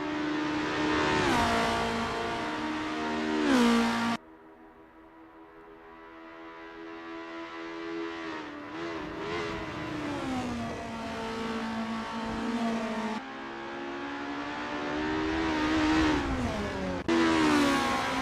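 A Formula race car in the Assetto Corsa game on a practice out lap around Estonia-25 revs hard through the gears, its loud buzzing engine climbing in pitch, cutting out on shifts and lifts, then pulling again.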